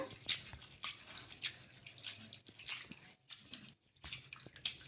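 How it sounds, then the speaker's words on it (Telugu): Flattened rice (poha) washed in water in a bowl, with soft drips, sloshes and squishy handling, close but quiet, with no speech. "వీటిని ఒక బౌల్లోకి అయితే వేసుకొని ఒక 2 సార్లు అయితే కడిగేసుకొని ఈ అటుకుల్ని నానబెట్టేసుకోవాలి."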